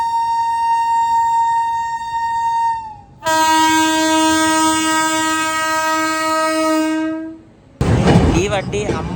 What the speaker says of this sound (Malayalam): ഈ വണ്ടി അംബാല കണ്ടോൺമെന്റിൽ നിന്ന് ബറോണിക്ക് പോകുന്ന ഹരിഹർ എക്സ്പ്രസ് എന്ന വണ്ടിയുടെ പഴയ ICF കോച്ച്